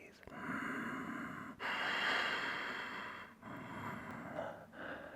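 A yoga student breathes audibly while holding an extended side angle pose, long soft inhales and exhales in a quiet room, with a brief pause between breaths.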